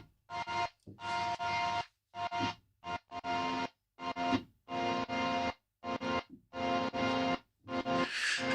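Piano chords run through a Megaverb reverb plugin for a trance effect, bursts of washed-out, heavily processed sound separated by short silences, with a swelling, brighter wash at the end.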